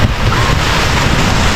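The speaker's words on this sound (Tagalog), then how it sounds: "sobrang lakas po ng hangin dito" Strong wind buffets the microphone outdoors, a loud constant roar with dull low-end thumping that never lets up, and no voices are heard.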